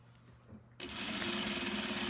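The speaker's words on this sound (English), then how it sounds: "I'm trying to sew right where my serge line was." A sewing machine stitches a skirt along its serge line, starting abruptly after a quiet moment and then running in a steady, close, continuous whir.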